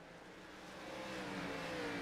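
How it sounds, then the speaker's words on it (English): A stock car engine in a racing video game at North Wilkesboro, heard faintly at a distance as a steady mid-pitched drone that slowly grows louder, with the revs easing as the driver lifts off the throttle. "I can hear him letting off the gas."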